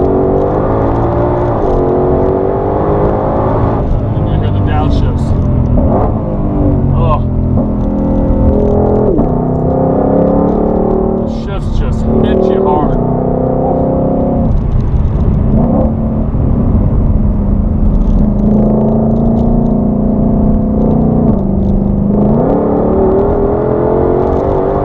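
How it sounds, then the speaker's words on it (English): A 2020 Shelby GT500 engine heard from inside while driving, loud and close, revving up through the gears with repeated rising pulls and abrupt gear shifts, a deep rumble constant underneath. "the sounds this thing makes and the crazy shifts are just awesome in this car"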